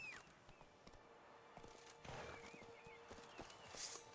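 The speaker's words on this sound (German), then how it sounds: "Da reiten wir hin. Zeit für Plötze" Horse hooves clip-clop at a steady walking pace in The Witcher 3 video game, quiet and fairly close, with some faint game ambience around them.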